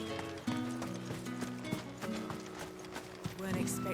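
Horse hooves clip-clop in a steady walking rhythm in the Final Fantasy XVI video game, close and clear, with a faint whinny near the end and low game ambience beneath.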